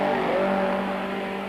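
A wide, V8-powered Chevrolet race car grunts at steady, loud engine drone through a 1997 Super Series race, dueling for second place against a 4-cylinder Ford-powered Courier, with no talk.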